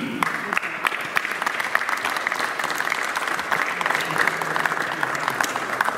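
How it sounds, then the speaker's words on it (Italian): A crowd claps steadily, a dense patter of applause filling the space evenly from start to finish. "facciamo l'applauso quando li chiamo."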